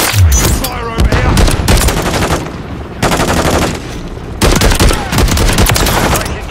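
Loud, close automatic gunfire from Call of Duty: Modern Warfare III rattles in several long bursts with brief pauses between, set on the Rust map, with soldier callouts mixed in.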